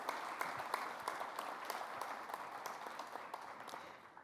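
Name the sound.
audience applause for graduating fire recruits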